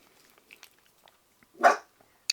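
A dog gives a single loud, sharp bark close by indoors, with faint small clicks and rustles before it.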